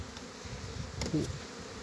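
Young honeybees on their first flight buzz faintly outdoors, a soft steady hum with one closer bee passing briefly near the middle.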